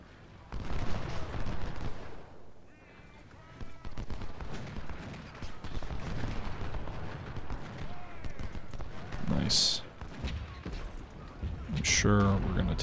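Artillery canister fire in the video game Ultimate General: Civil War, dense rumbling volleys and booming shots rolling continuously over a battle din, with a few sharp high clangs near the end.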